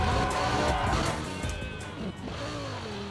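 Race car engine in Burnout Paradise roaring close and loud, its pitch sweeping up and down through gear changes over a busy mix of game noise, with a voice talking briefly.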